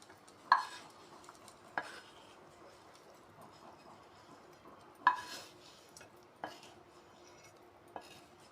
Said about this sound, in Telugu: ఇలా కలుపుతూ ఫ్రై చేసుకోవాలండి. మంచిగా ఫ్రై అయ్యేంత వరకు ఫ్రై చేసుకోవాలి.